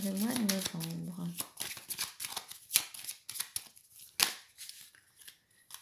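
Tarot cards are shuffled close to the microphone, making a stream of soft riffling snaps and sharp flicks after a brief spoken word at the start.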